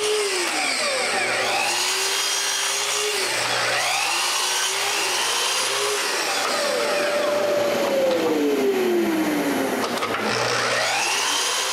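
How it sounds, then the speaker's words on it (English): Loud, continuous machine whine of a power saw cutting wooden rails to length against a stop, with pitch sweeps as the blade bites and eases, running steadily throughout. "I move the stop to the right place and cut them all to length."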